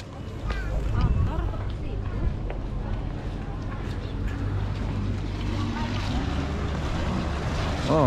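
A speedboat runs on the water at a city tourist spot in Batam, with a steady engine and wash rumble under wind noise on the microphone, while people talk excitedly over it.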